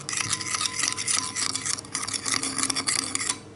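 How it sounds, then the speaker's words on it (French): A utensil scrapes and clicks steadily against a bowl as seasoned chicken with pepper and salt is mixed. The close, busy stirring runs continuously for several seconds and then stops. "Je mélange le tout."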